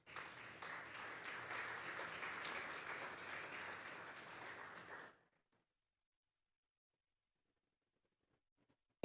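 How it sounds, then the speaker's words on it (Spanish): A church congregation applauding during a Sunday service, a steady dense wash of clapping for about five seconds before cutting off to silence. "Denle un fuerte aplauso pues al Señor."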